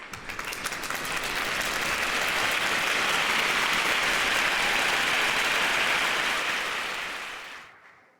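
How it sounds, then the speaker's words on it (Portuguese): A church congregation applauds together in a dense, steady wash of clapping that swells quickly, holds strong for several seconds, then fades out near the end. "Vamos aplaudir a Jesus."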